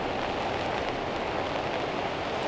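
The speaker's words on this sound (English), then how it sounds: "it's now starting to rain." Steady rain falling at a fishing lake in October, a dense even patter on surfaces that holds constant throughout, close and moderately loud with no voices.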